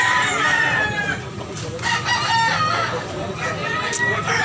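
A gamefowl rooster of Sweater bloodline crows and clucks at a rural Filipino fowl sale, fairly close, amid background chatter and people talking.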